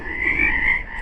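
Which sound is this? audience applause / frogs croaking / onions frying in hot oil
frogs croaking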